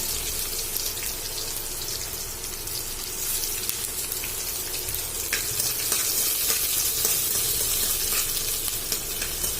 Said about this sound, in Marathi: त्यानंतर कांदा, कांदा टाकून घेऊया.